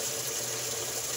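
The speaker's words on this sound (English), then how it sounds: "I usually like to put a little bit of water in the pouch just to rinse" A short burst of tap water runs steadily into a washing machine cleaner pouch to rinse it, an even close hiss of flowing water with nothing else heard.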